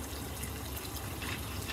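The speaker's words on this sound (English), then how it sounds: "you hear the water washing off the other food." Water runs steadily from a kitchen tap into a sink where food is being washed, a constant close gushing hiss with no talk.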